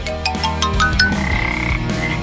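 A live frog gives a loud, close, wobbling croak that bends up and down in pitch, followed by a longer sustained croaking note, heard alone without talk.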